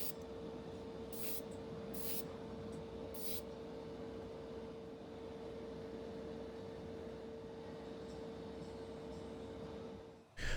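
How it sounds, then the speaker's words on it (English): Spray can painting Ford Cortina doors from a Matchbox die-cast car red during a custom restoration, a continuous faint airy hiss with a steady hum underneath, cutting off abruptly at the end. "here I am spraying the Cortina doors."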